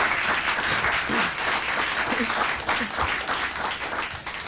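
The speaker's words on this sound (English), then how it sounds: "Please join me in giving them another round of applause." An audience at a faculty panel event on the Great Lakes and Michigan's economy gives a round of applause, a full sustained wash of clapping that eases slightly toward the end.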